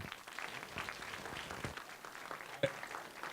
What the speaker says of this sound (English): Let's give Ari a big round of applause.